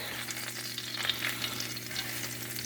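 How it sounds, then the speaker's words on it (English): Garlic browns in vegetable oil in a pan with a steady, gentle sizzle and faint crackling pops, close and continuous beneath a low background hum, no voices. "got a little bit of vegetable oil here in the pan. Just browning up some garlic"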